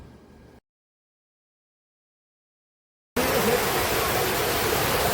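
Water rushes out of the Aliyar dam in a dense, steady roar. It starts after a soft passage and a stretch of total silence, then stays loud and even to the end.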